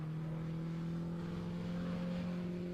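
A Centaur Mark 16 race car in a 750 Motor Club race at Snetterton circuit gives a steady, droning engine note at moderate distance, holding a constant pitch throughout with no voices.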